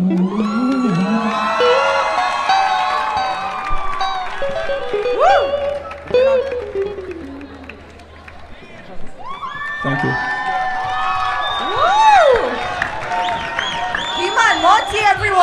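A live talent show audience cheers, whoops and shouts after a performance, a loud crowd roar that dips briefly before surging again, with excited voices rising above it.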